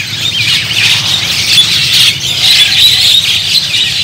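Puter pelung doves calling among caged birds at Pasar Lembang bird market, shrill squawking calls overlapping continuously and loudly up close, with no talk.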